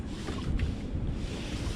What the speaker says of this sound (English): The wind comes and goes. It lays down, it picks up.